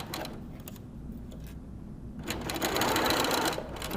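Sewing machine stitching a quilt block seam: a fast, steady mechanical whir of the needle that pauses briefly mid-clip, then resumes louder and closer.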